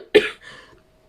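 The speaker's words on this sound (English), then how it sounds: "sorry, I'm coughing because of the hay fever" A single sharp cough from someone suffering hay fever, close to the microphone, followed by a softer throat-clearing rasp, alone with no talk.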